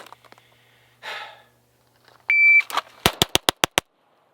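A rapid string of six sharp Staccato XC pistol shots cracks out in a timed shooting drill, closely spaced and loud, just after a timer beep, with breathing and brief rustles before it.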